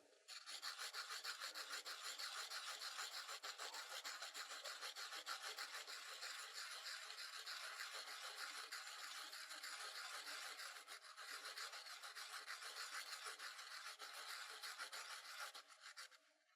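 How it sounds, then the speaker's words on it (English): A pencil rubbed back and forth across a sanding block while being slowly rotated, giving a steady, close, dry rasping scrape that continues evenly with no talk. "as I'm going over the surface of the sanding block, I'm also rotating my pencil like this"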